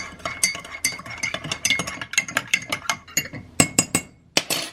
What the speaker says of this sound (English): Mix this.